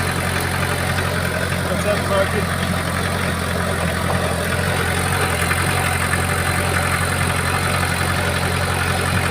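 A small vehicle towing a trailer of clay drives slowly along a road, its engine a steady, loud mid-pitched drone with constant rumble and road noise throughout, with no change in pace.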